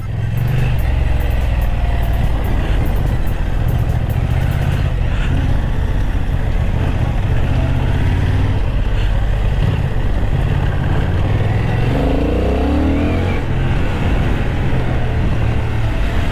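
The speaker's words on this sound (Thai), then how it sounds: "เจ้านี่เป็น2สูบนะฮะ เสียงท่อนุ่มๆเพราะๆกับน้องนะฮะ" Honda CB750 Hornet two-cylinder motorcycle exhaust while riding on a track, a loud, close, smooth low engine drone that holds steadily, with a shift in pitch as the bike revs near the end.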